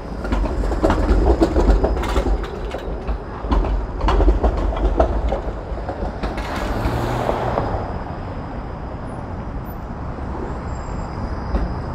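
A Toronto streetcar rumbles along its rails on an evening street in Roncesvalles Village, with a steady, fairly loud rolling drone and clacking that swells and then settles into continuous city traffic noise.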